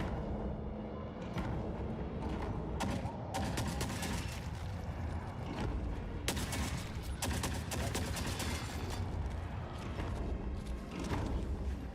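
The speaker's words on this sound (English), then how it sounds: "we peeked out the corner and got absolutely obliterated by those snipers" Sniper gunfire and heavy combat in the video game Forever Winter: repeated sharp shots and bursts crack through a dense, constant backdrop of mechanical noise and clatter.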